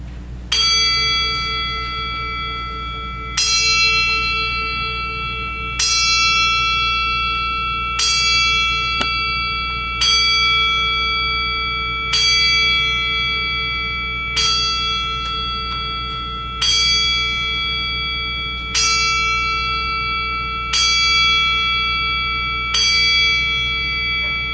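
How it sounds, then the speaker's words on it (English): A memorial bell at a Honey Brook Township veterans ceremony rings eleven times, each loud, ringing strike decaying before the next at a slow, even pace of about one every two to three seconds, with no talk over it. "The bell will now ring 11 times."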